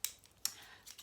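Three crisp, bright snips from small scissors, spaced about half a second apart, close and fairly quiet.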